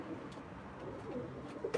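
Pigeons cooing in a loft, soft low throaty coos repeating faintly over a steady background murmur.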